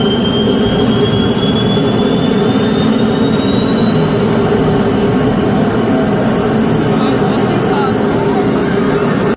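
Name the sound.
jet engine running in university lab test bench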